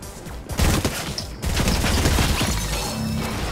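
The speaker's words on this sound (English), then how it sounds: "I got shot from like over here." Gunfire in Fortnite, dense overlapping volleys of shots with sharp cracks near the start and a continuous rattling barrage after, loud and close with no voices.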